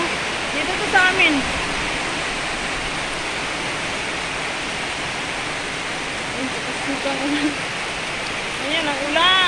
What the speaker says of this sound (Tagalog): Ulan na, may bagyo dito sa amin.